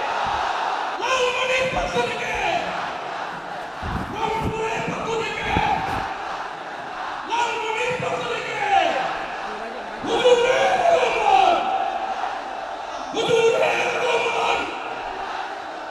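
A crowd at a religious gathering in Lalmonirhat shouts takbir in response, several loud collective roars rising in waves between the lines of a speaker's amplified voice.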